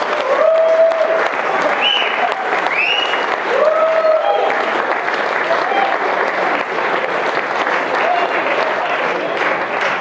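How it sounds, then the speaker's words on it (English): Wedding guests give a final round of applause after the speeches, a steady, full crowd clapping throughout with some cheering, while a voice speaks over it. "Please give them all one final round of applause."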